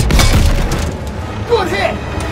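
A tank cannon shell strikes its target in the Call of Duty WWII game, a heavy booming impact at the start followed by rumbling battle noise and shouted voices.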